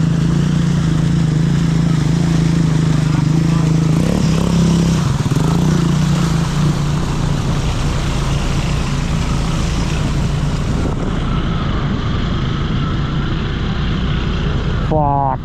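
An ATV engine drones loudly and steadily as it churns through slick, muddy ruts on paddle tires, the motor note shifting pitch near the end, with no voices heard.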